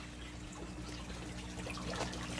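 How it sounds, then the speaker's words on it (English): Water trickles from the return pipe of a temporary aquaponics rig, feeding toward a sump, with a steady faint splash and dribble over a low constant hum. "So you can see some water coming out here."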